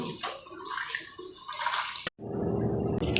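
Water splashes and sloshes steadily as bitter gourd pieces are rubbed and washed with coarse salt in a vessel, close and continuous, with a brief break before the rinsing resumes.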